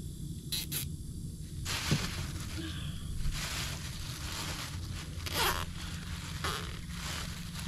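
Zip ties are ratcheted tight on blue crabbing gear, giving several short, quiet, zipping rasps close by, spaced unevenly over a faint background hiss.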